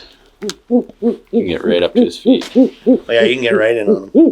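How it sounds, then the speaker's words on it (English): Owls at a Canadian wildlife rescue hoot in a steady series of low, rounded calls close by, with people talking over and between them. "Just super cool to see the owls up close. You can hear them hooting in the background."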